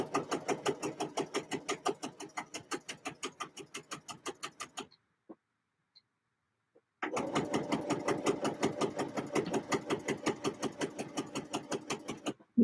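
A sewing machine stitches a fluffy skirt in steady rapid bursts, running for about five seconds, pausing briefly, then resuming at the same even pace close up.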